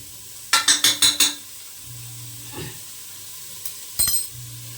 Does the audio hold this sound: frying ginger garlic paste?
yes